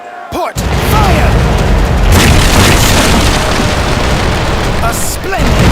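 Ship cannons firing from the port side in a naval battle game, a dense continuous barrage of booms filling the clip at high volume, with a brief dip before the roar resumes.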